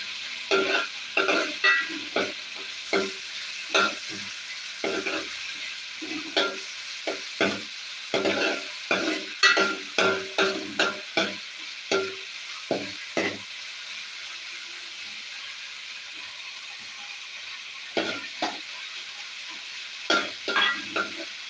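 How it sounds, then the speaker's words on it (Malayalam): Upma with ghee and raisins stirred in a pan: a series of sharp scraping strokes of a spoon against the pan, in bursts with short pauses, over a soft sizzle, close and alone. "നന്നായിട്ടൊന്ന് ഇളക്കി കൊടുക്കുക"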